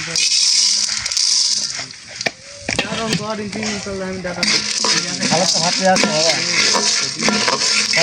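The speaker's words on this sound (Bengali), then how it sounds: "ভুট্টাটা ভাজা নেব আগে" Corn kernels frying in a pan, a steady sizzle with scraping and rattling as they are stirred, under a voice speaking nearby.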